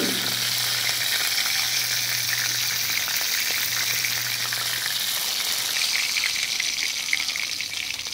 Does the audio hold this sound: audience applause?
no